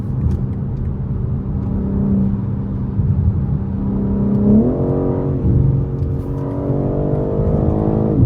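A 2023 BMW M3 Competition xDrive being driven, its engine droning steadily from inside the car, then rising in pitch as it accelerates through the gears with a low road rumble underneath.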